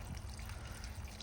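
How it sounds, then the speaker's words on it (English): Water trickles and splashes steadily into soil while a newly planted Monstera deliciosa is watered outdoors in Mesa, Arizona, a continuous close hiss with no pauses. "So here we are watering,"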